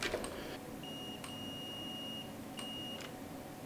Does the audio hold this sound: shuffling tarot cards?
no